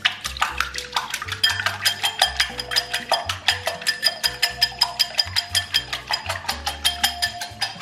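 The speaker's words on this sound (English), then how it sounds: "And now you're gonna whisk." Eggs whisked in a bowl for a breakfast wrap, a fast regular clatter of the whisk against the bowl, close and steady throughout with no talking.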